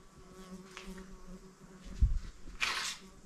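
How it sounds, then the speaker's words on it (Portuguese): An insect buzzes around someone standing near water at a rural farmhouse, a faint thin hum that swells briefly close to the microphone, with a soft thump partway through. "tem um bicho chato aqui, um mosquito aqui, ó."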